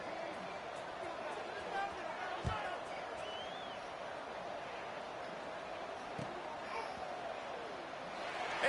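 A stadium crowd at a college football game between Florida and Wisconsin, heard in a video game, roars as a steady, distant wash of noise before the kickoff, with a few scattered shouts rising from the crowd.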